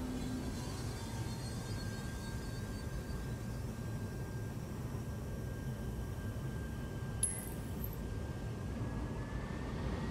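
Spaceship lifting off in the video game Star Citizen, a steady, moderately quiet engine roar with a faint whine, and a brief click near the end.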